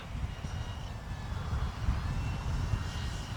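An Arrows RC Bigfoot model airplane in flight over a grass field, its electric motor giving a steady, continuous drone with wind noise that holds level throughout.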